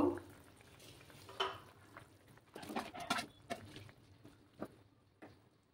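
Fried fritters dropped into a fish egg curry in a pan, giving a series of irregular soft plops, clinks and stirring scrapes against the pan, moderately close with quiet gaps between.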